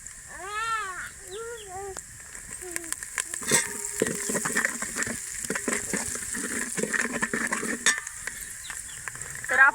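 Onion, garlic and masala frying in a pan for a traditional Maharashtrian Bhogi vegetable dish, a steady sizzle with stirring scrapes and a few clatters, joined early on by a cat's meows and later by voices.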